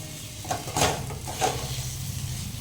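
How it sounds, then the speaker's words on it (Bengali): Dhoka for dhokar dalna is stirred in hot oil in a wok, with a few sharp scraping strokes of the spatula over a steady low sizzle, close and moderately loud. "এটাকে তেলের মধ্যে একটু ভালোভাবে নাড়িয়ে চাড়িয়ে নিতে হবে"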